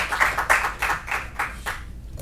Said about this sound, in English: I had to wait for the applause.